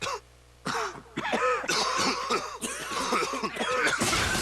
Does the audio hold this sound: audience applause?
no